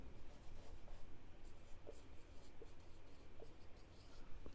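A pen writing on paper while drawing a box around an answer during a ninth-grade geometry lesson, heard as faint, scratchy strokes in a soft, continuous rhythm with no talking.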